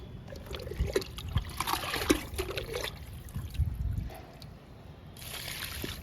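Kitchen waste liquid poured onto a garden plant beside a mulberry, an uneven trickling and splashing close by with brief rustling, no talk over it.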